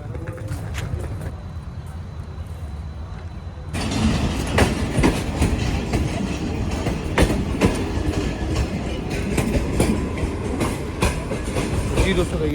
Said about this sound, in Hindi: ट्रेन मुझे टिग रोड पर छोड़ने के बाद आगे जा रही है कराची सिटी रेलवे स्टेशन की तरफ